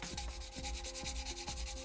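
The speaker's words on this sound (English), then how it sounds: "Then I go straight to the 400 grit sanding paper." Steady back-and-forth strokes of 400 grit sandpaper rubbing over a 3D-printed resin piece, a close, rhythmic scratchy hiss repeating about every half second with no voices.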